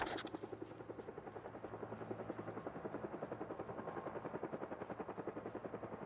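A helicopter in the Project Zomboid video game passes overhead with a steady, rhythmic rotor chop that stays loud and continuous throughout, with no talking over it.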